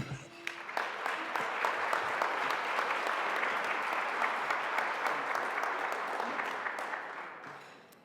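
An audience gives a long, loud round of applause to welcome President Tripathi at a university alumni awards event. The clapping swells quickly and holds steady before tapering off near the end.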